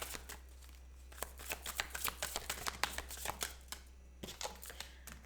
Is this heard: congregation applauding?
no